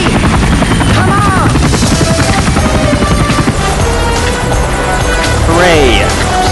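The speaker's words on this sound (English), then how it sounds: "Hooray! Special helicopter ride." A helicopter in the video game 007 Nightfire gives off a loud, constant rotor drone throughout. Voices speak briefly over the drone.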